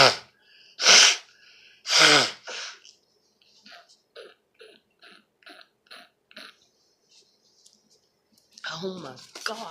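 Several sharp, loud sneezes burst out near the mic, followed by a rapid string of small sneeze-like bursts and breaths, with a person talking at the end.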